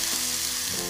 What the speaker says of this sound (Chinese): 兩邊兩面金黃色，煎香咗，係啦，俾少水淋啦，攢落去